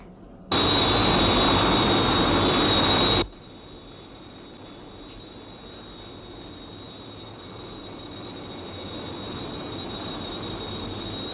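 The Sky 1 interceptor aircraft takes off from a 1970 science-fiction TV series with a loud, sudden jet blast lasting about three seconds, which cuts to a quieter sustained whine and rushing hum that slowly builds.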